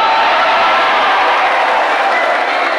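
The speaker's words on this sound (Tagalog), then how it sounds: "Huwag kayong pumalakpak kasi natanggap nyo na, wala nang dagdag." An audience applauds at a Cotabato City mayor's gathering, with steady, dense, loud clapping that holds without a break from start to finish.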